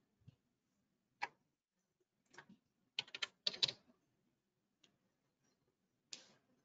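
Sparse keystrokes on a computer keyboard during an online surgery class, close and quiet, with single clicks and short bursts of tapping separated by silence and no talk.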